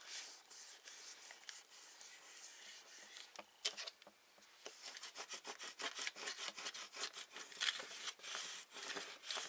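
A Cricut scraper rubs back and forth over transfer tape during a baby shower favor craft, giving quiet, close scratchy strokes in quick repeated bursts that grow busier toward the end.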